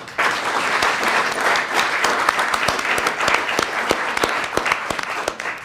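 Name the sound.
applause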